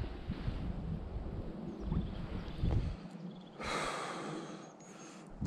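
Gusty wind blowing outdoors on a cold morning, rumbling and buffeting against the microphone in uneven surges, with a brief rush of breathy noise partway through and no talk.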